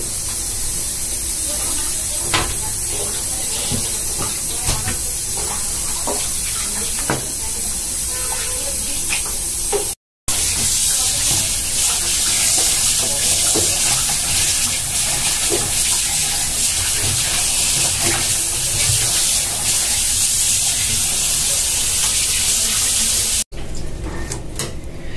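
Running water from a tap steadily washes pieces of cut boal fish (wallago catfish) in a kitchen, with a broad continuous hiss and splash and brief handling interruptions, near and fairly loud throughout.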